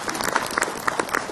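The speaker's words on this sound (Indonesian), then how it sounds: "Tepuk tangan lagi buat Ustadz Syam" A brief burst of uneven, scattered clapping from a congregation at an Islamic lecture welcoming a preacher to the front, close and fairly loud, with distinct individual claps.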